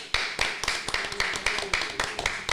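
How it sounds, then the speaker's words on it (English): A round of applause for a team at a gathering in the Philippines: a short burst of scattered claps with sharp irregular taps, fairly close, with a murmur of voices underneath. "So once again, a round of applause to the team as well"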